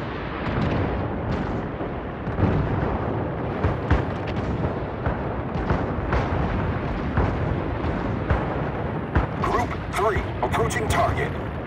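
Incoming fire and explosions in the naval video game World of Warships, with a Japanese carrier Hosho at Tier IV: dense, continuous booming and bursts layered under a steady wash of game noise, with voice callouts mixed in.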